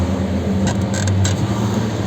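A power window on a 1996 Tofaş Doğan car runs with a steady motorised hum and a few creaking mechanical clicks, close and continuous for about two seconds.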